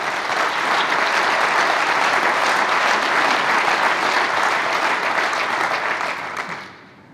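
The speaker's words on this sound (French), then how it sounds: "Bravo, on peut l'applaudir." Audience at an awards ceremony applauds a prize winner, a dense, steady wash of clapping that holds strong before fading out near the end.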